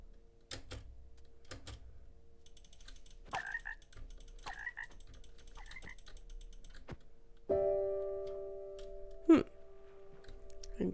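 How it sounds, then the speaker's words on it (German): Repeated short croaks from a frog in Minecraft, spaced irregularly over a steady background hum, with a brief tonal chime and clicking near the end. "Ist das ein Frosch?"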